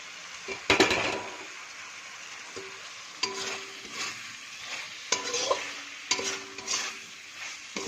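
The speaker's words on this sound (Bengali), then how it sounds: "সুন্দর নেড়ে চেড়ে কষিয়ে নেব। আলুটা কষানো হচ্ছে।" Fried small potatoes being stirred into spice masala in a pan for a young jackfruit roast, with a steady sizzle and repeated scraping spatula strokes, loudest near the start and recurring every second or so.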